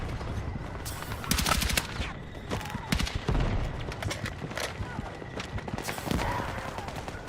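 Rapid gunfire from a weapon in the shooter Battlefield 6, with bursts of automatic shots crackling over busy combat noise, loud and close, recurring through the stretch.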